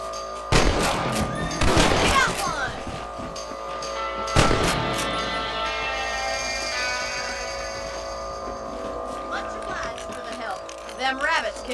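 Rifle shots crack out while hunting rabbits on a ranch in Red Dead Redemption: a quick volley of several loud, close shots early, then a lone shot, followed by a long ringing tone with voices talking over it.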